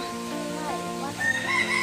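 A rooster crows in the grounds of a Thai temple park. A single drawn-out crow is heard fairly close and clear over quiet background.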